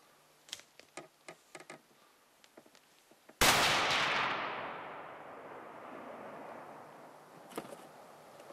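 A single hunting rifle shot at a bighorn sheep in the Pecos Wilderness of northern New Mexico cracks loud and sharp, then rolls away in a long echo. Faint clicks and ticks come before it, and one small tap follows.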